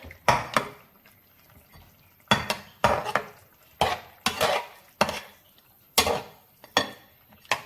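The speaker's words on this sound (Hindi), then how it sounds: "अब हम इसको मिक्स कर लेंगे।" A spoon stirs Afghani chicken kadhai in a metal pot, making about a dozen sharp scraping and clattering strokes in an uneven rhythm with quiet pauses between them, close and clear.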